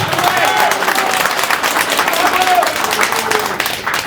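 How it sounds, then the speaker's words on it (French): A crowd at a French-speaking rally applauds and cheers for a man called Ben, with loud, dense clapping mixed with voices and shouts throughout. "Je vous demande de l'applaudir"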